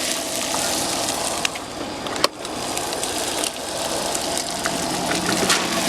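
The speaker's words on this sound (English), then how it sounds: "Just the bacon grease is starting to form at the bottom, and then we're going to add our potatoes" Potatoes go into bacon grease in a camp pan over a fire, setting off a loud, dense, continuous sizzle with a few sharp clicks and a clatter partway through. The sizzle sounds close and steady, with no talking.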